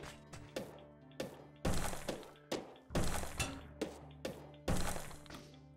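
Pickaxe strikes in the mining game SteamWorld Dig, a string of sharp, close thunks and cracking breaks, about a dozen in irregular rhythm, some heavier and ringing longer, with no talk over them.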